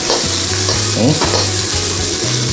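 Garlic and onion sauté loudly in hot oil in a pan, a steady close-up sizzle with a few scraping stirs, no talk.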